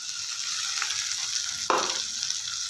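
Chopped tomatoes hit hot oil in a pan with softened onions, bursting into a sudden loud sizzle that settles into steady close-up frying with a light stir, no voices.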